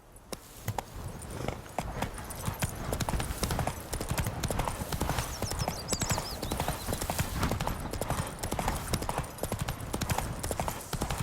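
Horse hooves clip-clop steadily at a riding pace throughout a scene in The Witcher 3, a rapid continuous rhythm close by, with faint ambient game sounds behind.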